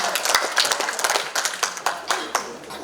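An audience at a psalm-reading contest claps in a lively, close round of applause, individual hand claps distinct and uneven, thinning out toward the end.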